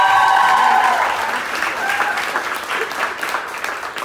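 A live audience at a summer acting school theatre performance breaks into warm, dense applause, loudest at first and then easing into a steady patter of clapping.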